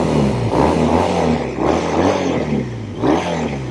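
A 2007 Triumph Thruxton 900 motorcycle engine revs loudly nearby, rising and falling in three throaty bursts with a rumbling exhaust note and no talking.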